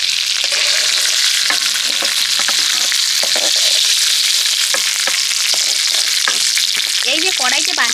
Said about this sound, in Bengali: পটলগুলোকে কিন্তু আমি ভালো করে ভেজে নিয়েছি